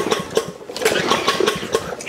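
A lawn mower engine being started after drying out, giving repeated short pulling bursts and sputtering catches at close range, with no voices.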